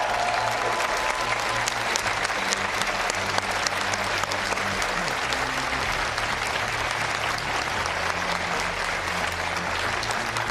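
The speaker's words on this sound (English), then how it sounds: "Give yourselves another big round of applause." An audience in a college auditorium claps at a televised debate, a continuous, even roar of many hands that holds steady at full strength throughout.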